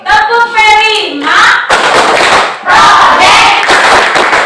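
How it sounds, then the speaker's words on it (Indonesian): Schoolchildren in a class do a rhythmic group clap-and-chant routine, loud bursts of shouting voices and clapping in quick patterned phrases, with a sung-like vocal line at the start. "kita sama-sama tepuk P5 dulu ya."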